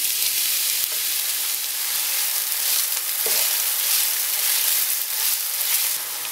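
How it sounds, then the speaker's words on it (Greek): Finely chopped onion frying in hot olive oil in a wide pot or deep pan for a stifado: a loud, steady, close sizzle that holds evenly throughout, with no voices. "Μόλις κάψει το ελαιόλαδο θα ρίξουμε μέσα το ψιλοκομμένο κρεμμύδι."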